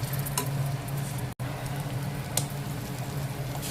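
Stuffed green chilies sautéing in a pan, a close steady sizzle with a low hum and a few faint stirring taps, briefly cut off for an instant midway.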